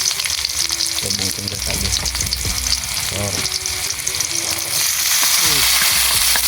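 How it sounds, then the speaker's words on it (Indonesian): Spice paste frying in a pan in a rice-field hut sizzles steadily and loudly while a utensil stirs and scrapes it in bursts, with a voice briefly heard over the cooking. "Di sini kami goreng dulu bumbunya sampai mengeluarkan aroma yang sedap"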